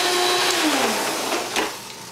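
A vacuum cleaner running close by, a loud whining motor hum whose pitch slides downward before a brief surge, then settles and fades slightly toward the end, with no voices.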